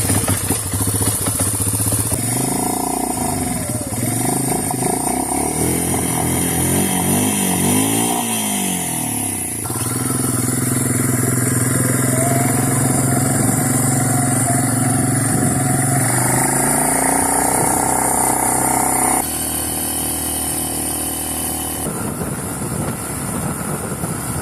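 An Eiger 400 ATV engine struggles through a flood current, revving loud and close with rising and falling revs, rattling clatter and abrupt changes in pitch.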